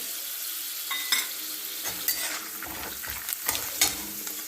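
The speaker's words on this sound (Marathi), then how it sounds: "त्यामध्ये पाव चमचा हिंगपूड घालू. 1 चमचा जिरे," Asafoetida and cumin seeds dropped into hot oil with fried peanuts and stirred, giving a continuous crackling sizzle punctuated by repeated spoon scrapes against the pan.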